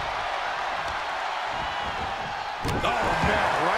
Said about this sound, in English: then slamming their face down.